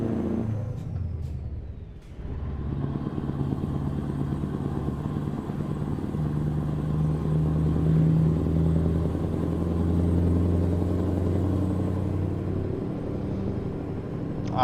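A Scania V8 log truck in Euro Truck Simulator rumbles with a deep, steady diesel drone, dipping briefly in a gear change early on before the engine note climbs and holds, close and continuous with no talking.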